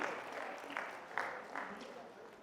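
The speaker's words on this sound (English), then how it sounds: "let's give them a round of applause" Applause from a workshop audience, moderately loud and continuous, with a few sharper claps standing out near the middle; voices are faintly mixed in.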